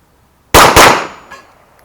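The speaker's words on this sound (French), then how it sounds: "on va essayer un double tap sur la pièce du bas" Two rapid gunshots from a Kriss Vector ring out in quick succession, each striking a steel gong target, followed by a short metallic ring and a faint later clang.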